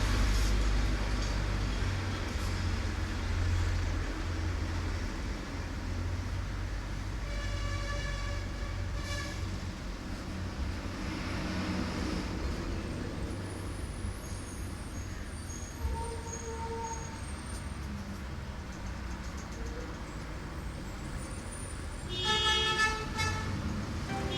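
Muffled road traffic drones outside a room while a bus horn sounds in short tonal toots, first around the middle and again louder near the end, over a constant low engine rumble.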